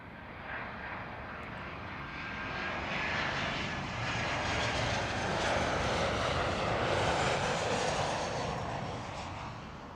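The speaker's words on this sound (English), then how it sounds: "British Airways 260. It's a Boeing 787-9 Dreamliner coming in from Islamabad." British Airways Boeing 787-9 Dreamliner landing at Heathrow: a broad jet roar that swells gradually, peaks for several seconds, then eases slightly as it passes.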